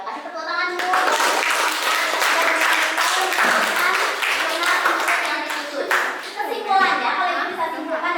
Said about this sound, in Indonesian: Ya, kasih tepuk tangan dulu.